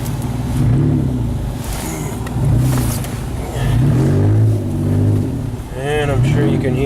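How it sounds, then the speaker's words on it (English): A Tracker's engine drives with its exhaust broken off at the Y pipe, giving a loud, rough, raspy drone that swells with throttle under steady talking throughout. "It's not exactly quiet because the exhaust fell off"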